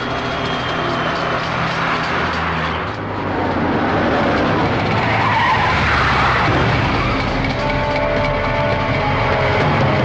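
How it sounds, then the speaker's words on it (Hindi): A car skids loudly through a movie car chase, with sustained roaring engine and tire noise filling the scene from start to finish. "करण, लगता है पीछे वाली गाड़ी हमारा पीछा कर रही है"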